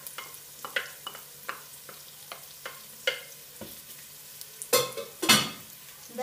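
Garlic frying with onion in a pan gives a soft sizzle under a steady run of spoon scrapes and taps, with louder stirring clatters toward the end.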